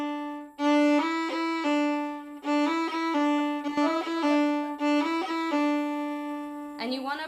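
A fiddle plays a slow Irish fake roll: a held open-string note, then a first-finger note, then a quick third-finger flick, repeated in a steady, deliberate rhythm, close and clear with no voices.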